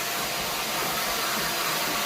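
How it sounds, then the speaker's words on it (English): A canister vacuum cleaner runs with a loud, steady broadband whoosh, close and continuous, with no talking. "Wow, that was actually pretty loud,"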